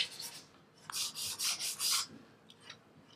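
Light sanding across the painted body of a Robert Johnson tribute guitar: about five short, soft rasping strokes in a quick row, close and fairly quiet, with no voices.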